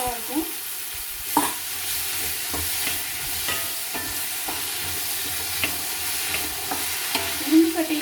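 Okra frying in an iron pan, a dense steady hiss of sizzling oil close by, punctuated by scattered scrapes and taps of a spatula stirring the pieces.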